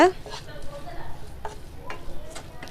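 Ground coriander and other spices being stirred and fried in a pan for a lobster roast produce a close sizzle with scraping stir strokes and light clicks, and a brief sharper sound at the start.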